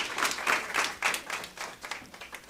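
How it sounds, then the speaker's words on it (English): A campus chat audience gives a short round of applause to welcome Professor Pitso, with clustered claps in uneven bursts that fade toward the end, moderately distant and fairly soft. "give him a round of applause before we start"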